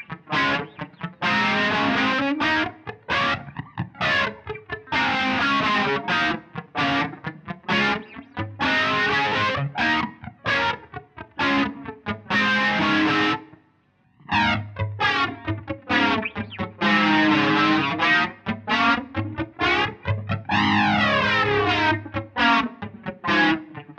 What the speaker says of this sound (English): So I'm going to start off with flanger.